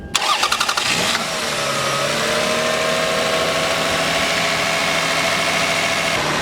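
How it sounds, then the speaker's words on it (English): A Toyota Avalon engine, with a new mass air flow sensor, spark plugs and ignition coils, cranks with rapid pulsing turns, catches after about a second, then settles into a steady, loud idle to the end. "I want to actually start the car and see how it goes."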